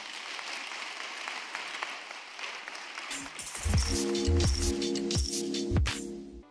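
A congregation at a prayer camp claps and cheers in praise, first as a diffuse wash of applause, then joined by rhythmic drumming and music growing louder near the end.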